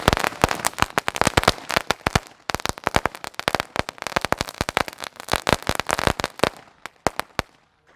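Sivakasi firecrackers burst for Diwali in a rapid, dense string of loud sharp bangs and crackles, nearly continuous for several seconds before thinning out to a few last pops.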